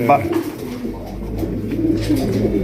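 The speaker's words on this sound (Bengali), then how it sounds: "কালো কুচকুচে একজোড়া ডেনিশ কবুতর" Black Danish pigeons coo softly and steadily in a low, throaty murmur, with a faint background hum and no pauses.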